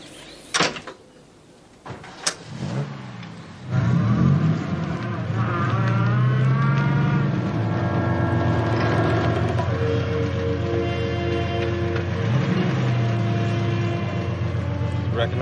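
A car door thuds at the start, then a car engine starts and runs at a steady drone as the car drives on, with a brief rise in revs partway through.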